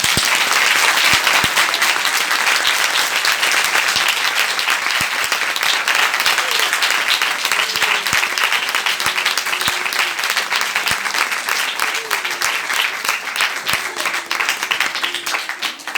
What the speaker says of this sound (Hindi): क्या हम खुदा के लिए बहुत सी तालियां बजा सकते हैं?